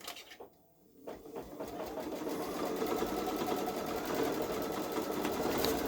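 A Babylock Solaris Vision sewing machine stitches out an edge-to-edge quilt design, starting after a brief pause and then humming in a steady, rapid, close mechanical chatter that continues without talk.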